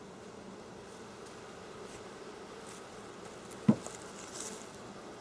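A steady, soft insect hum of many honeybees around a hive drones continuously during a honey harvest, with one brief knock partway through; no one speaks.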